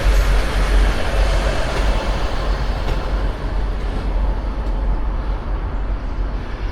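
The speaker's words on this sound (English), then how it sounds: "Lots of Northern Rail trains." Northern Rail trains idle and move at Sheffield station, a loud, steady, low rumble filling the platform with a broad wash of noise and no clear breaks.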